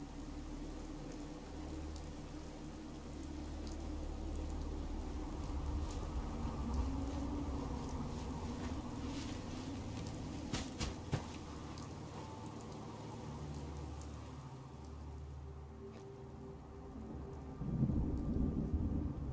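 Rainy thunderstorm in the video game Fallout 4: constant rain hiss with long low rumbles of thunder, a few sharp crackles midway and a louder surge near the end, no speech.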